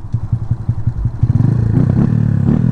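Honda Pop 110i motorcycle engine running close by, a steady thumping idle that picks up into a faster, rising rev with some mechanical clatter, no talking.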